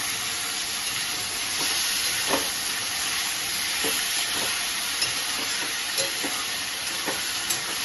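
Whole garlic cloves and country chicken for a Bengali-style curry sizzle and fry steadily in a pan, with a dense continuous hiss and occasional soft clinks and scrapes as the mixture is stirred, close and alone with no talk.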